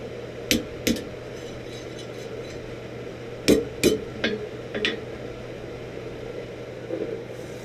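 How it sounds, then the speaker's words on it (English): A rubber hammer strikes a forged metal meat skewer, a few sharp metallic knocks ringing out in small clusters, separated by pauses, over a quiet background hum. "I'll just take a rubber hammer"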